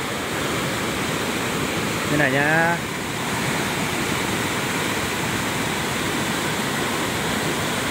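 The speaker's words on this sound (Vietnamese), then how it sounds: "suối to như thế này ở mùa nước này và chân mồng cao này nhá, quá to luôn đấy này" A large mountain stream swollen in high-water season rushes with a steady, loud roar throughout, and a voice speaks briefly over it.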